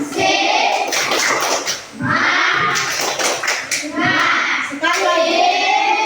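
Schoolchildren in an elementary classroom clap out the 'tepuk semangat' rhythmic chant together, bursts of patterned hand claps mixed with loud group voices, close and lively, repeating in several phrases.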